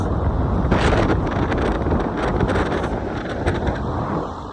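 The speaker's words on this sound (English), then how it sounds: "So windy, but it's actually not that cold." Strong wind on a beach in Wales buffets the microphone in a continuous loud roar, with gusts rising and falling throughout.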